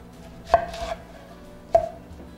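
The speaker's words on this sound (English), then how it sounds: "For the onion, we'll slice from the root end to the tip in half." A knife cuts an onion in half on a board, two sharp, close chops about a second apart, each with a short ringing knock, with quiet in between and no talk.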